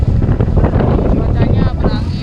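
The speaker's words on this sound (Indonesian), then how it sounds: "Cuacanya berangin dan sedikit hujan." Strong wind buffets the microphone at the summit crater of Mount Kelud, Indonesia, in light rain, a loud continuous gusting roar filling the whole moment.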